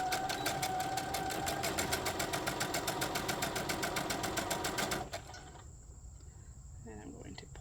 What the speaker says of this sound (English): I'll be back stitching at the beginning and end when I start and stop